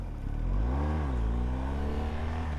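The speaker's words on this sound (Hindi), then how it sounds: "मोटरसाइकिल" Motorcycle engine revving hard on an off-road trail, a loud, steady mid-pitched roar with rising and falling revs throughout, up close with no talk.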